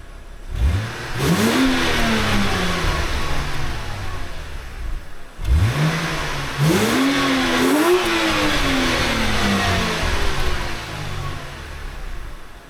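A BMW E90 328i engine revs hard twice through a loud, raspy Turner axle-back exhaust, pitch climbing and falling with each blip, then settles into a rumbling idle.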